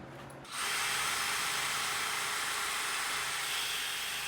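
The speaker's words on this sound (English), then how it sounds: "It's my Milescraft portable drill press here just to get it straight." A Milescraft portable drill press boring dowel holes in Baltic birch plywood starts up after a brief quiet moment, then runs as a steady, loud, continuous whirring drone, close by.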